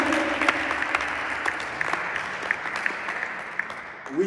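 A church congregation applauds in a steady, dense patter of many hands, sustained at moderate loudness with a few sharper individual claps standing out.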